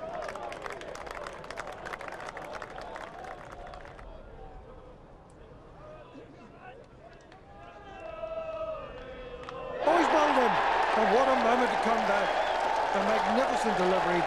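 A cricket crowd at a county championship match between Somerset and Glamorgan erupts into applause and cheering after a wicket, swelling to a loud sustained roar near the end, with a commentator talking over it.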